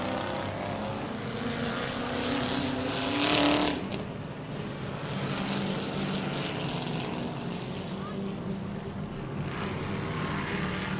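Crown Victoria race cars roar around a high-banked oval track, engines loud and sustained as the pack passes close, with a brief louder surge as cars sweep by.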